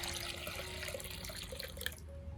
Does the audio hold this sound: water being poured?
yes